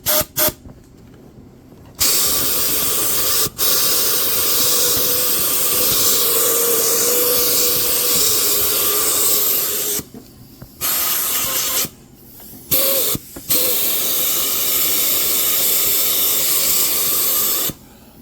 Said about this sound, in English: I got a special sweeper thing I'm gonna get in there with. Uses the air compressor.